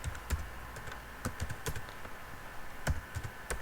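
Keys tapped on a computer keyboard while an email address is entered, a quiet run of irregular clicks in short bursts with pauses between them, alone without speech.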